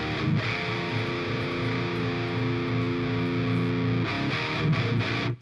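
A clean electric guitar rings out through a Softube amp simulator, sustained chords with bright, steady harmonics, then a few quick strums near the end; no talking.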